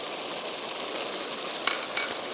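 Kebab mixture with ground black pepper sizzles steadily as it roasts in a handi pot, a soft, even frying hiss with no talk.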